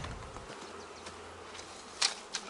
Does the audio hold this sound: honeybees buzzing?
yes